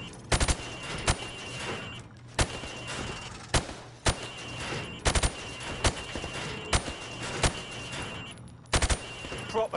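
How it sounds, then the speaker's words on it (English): Gunfire in a shooting-range training exercise from a PS4 video game, shooting pop-up targets through wood: sharp, loud single shots and short double bursts spaced irregularly across the clip over a steady background hum. "I want you to shoot the targets through the wood."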